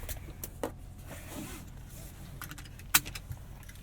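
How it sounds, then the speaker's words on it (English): A Hyundai key, from a 2019 Elantra GT N Line, jangles in a few soft, brief bursts, with one sharper metallic clink near the end over a low hum. "Pretty standard Hyundai key there."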